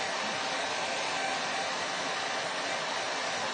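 A hair dryer blows steadily close by, drying a thick patch of acrylic paint, a constant airy whoosh with a soft motor hum and no pauses.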